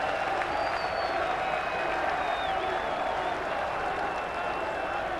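A cricket crowd at a Lancashire versus Yorkshire match reacting to a wicket with sustained applause and cheering, a steady broad roar lasting several seconds with no break.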